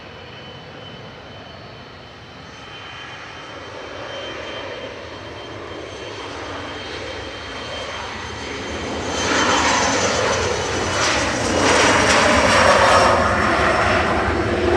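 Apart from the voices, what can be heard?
jet airliner departing at Manchester Airport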